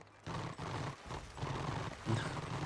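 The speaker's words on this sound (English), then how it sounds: "I love that stupid turn sound for the horse way too much" A horse in the Warhammer Online video game makes its turning sound: repeated snorting, whinnying bursts with clopping hooves, several pulses in a row at moderate, slightly distant volume without speech.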